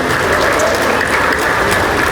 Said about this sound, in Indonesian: Tepuk tangan buat Marinus.